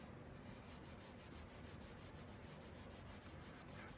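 Alcohol-soaked steel wool rubs along the grain of a water-stained wood table finish, a faint, steady scrubbing with evenly repeated strokes.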